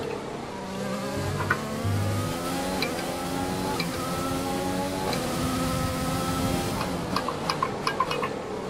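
A Formula 1 car in a racing video game at the Japanese Grand Prix, running with engine issues, holds a loud, continuous high-revving engine whine that rises and falls through gear changes.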